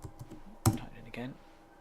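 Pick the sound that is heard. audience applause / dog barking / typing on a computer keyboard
typing on a computer keyboard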